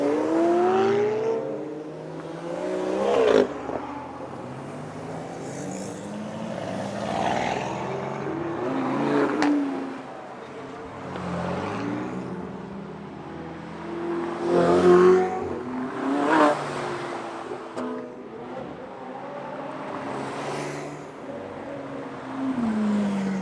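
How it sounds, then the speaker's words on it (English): A Pagani Zonda supercar driving past on a track during a supercar run, its engine rising and falling through several revving passes, moderately near, with no talk over it. "Here comes the Zonda."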